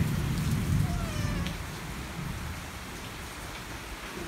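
Steady rain falls on a night in Panama, a dense hiss of drops on surfaces with a low rumble of thunder at the start that fades into continuous rainfall.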